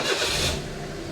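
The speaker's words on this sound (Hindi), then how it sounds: "और ये हो गई जी गाड़ी स्टार्ट।" A car engine cranks and catches, a short burst of broadband noise settling into a steady idle. The car has no catalytic converter fitted and sits in a used-car yard.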